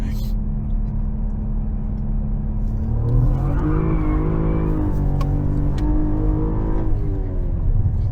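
2023 Cadillac CT4-V Blackwing revving hard in second gear on a winter mountain road, the engine note climbing steadily in pitch and loudness toward the top of the gear, with a voice underneath.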